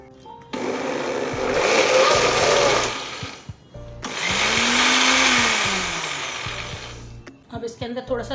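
A mixer grinder blends ice and mango for ice cream in two loud whirring bursts of about three seconds each, with a brief stop between and the motor pitch shifting as the load changes.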